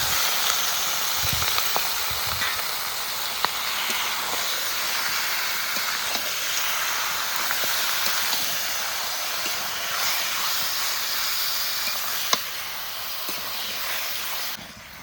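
Duck meat hits a pan of sizzling spice paste in oil for a potato and chui jhal duck curry, a steady loud hiss and crackle of frying running unbroken with occasional small pops.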